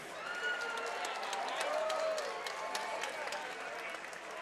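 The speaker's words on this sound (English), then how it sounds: "A round of applause for these two fighters." A crowd at an MMA fighting championship event applauds and cheers the two fighters, a dense wash of clapping and shouts filling the whole moment, with a voice faintly heard over it.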